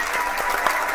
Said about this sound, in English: Come on, let me hear you clap.